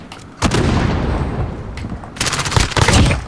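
Loud gunfire in a video game gun game match, a sharp crack followed by a rumbling stretch, then a flurry of quick close shots.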